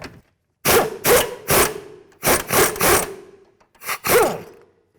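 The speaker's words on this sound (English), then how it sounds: "we're actually going to take it off with an air gun" An air impact gun on a 2007–2012 Nissan Altima front strut nut, firing in loud, close bursts: three quick hits, a pause, three more, then two final bursts, with silence between.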